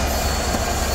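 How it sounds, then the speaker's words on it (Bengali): Nilshagor Express (765 Up, bound for Chilahati) pulling out of Dhaka Kamalapur railway station: a loud, steady rumble of rolling railcars with faint wheel squeal, close by, no voices. "চিলাহাটিগামী 765 আপ নীলসাগর এক্সপ্রেস ট্রেনটি ঢাকা কমলাপুর রেলওয়ে স্টেশন থেকে চিলাহাটির উদ্দেশ্যে ছেড়ে যাচ্ছে"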